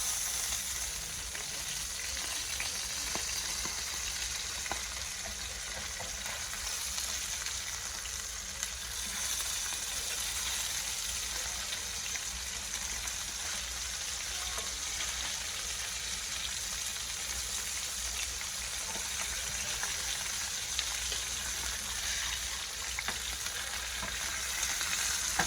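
Pompano fish fries in a pan with a constant, even sizzle and crackle that holds steady throughout, loud and close with no talking.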